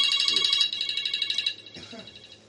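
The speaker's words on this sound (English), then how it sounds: "What that is, a phone?" A phone ringtone trills in rapid, rhythmic bursts, loud at first, then pausing briefly before ringing again more faintly. A voice speaks briefly beneath it.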